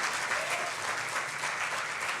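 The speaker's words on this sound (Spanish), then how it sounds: "Dale una ofrenda de palmas al Señor" A church congregation claps steadily and fairly loudly throughout, a dense wash of applause with no speech over it.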